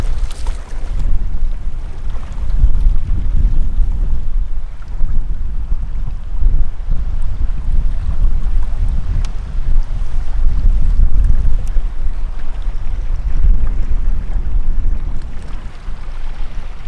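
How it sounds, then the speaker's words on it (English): Strong, steady wind roars across the microphone on a boat trip on an open inland sea, a loud, unbroken buffeting rush with the low thump of water beneath, and no voices. "the wind picked up. It is real windy now."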